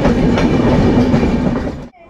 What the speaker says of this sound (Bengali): আমাদের ট্রেন ছেড়ে দিয়েছে হাওড়ার উদ্দেশ্যে